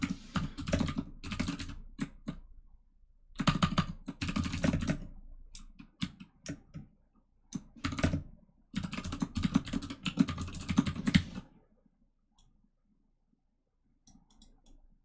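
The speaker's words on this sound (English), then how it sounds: "As we're typing," Computer keyboard typing, close and crisp, in irregular bursts of rapid key clicks separated by short pauses, trailing off into a few isolated taps and near silence at the end.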